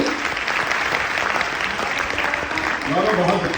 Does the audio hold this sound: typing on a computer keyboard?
no